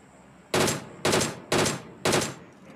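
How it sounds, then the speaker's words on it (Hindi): Gunfire in the battle royale game PUBG during a solo-versus-squad match in Pochinki: four loud, close bursts of rapid automatic shots, each about half a second long, spaced evenly, with no talk. "तभी मेरे लेफ्ट से ना गोलियाँ चलने लगती है"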